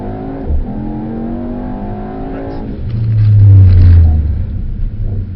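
Mercedes-AMG GT with 630 bhp accelerating hard on a track, the engine note rising steadily through the gears, then a deep loud rumble swelling as it slows, close and alone with no talk.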